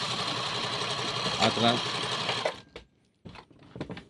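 A Singer portable sewing machine runs in reverse, partly stuck, with a steady close whirring drive for about two and a half seconds before it stops, followed by a few short mechanical bursts.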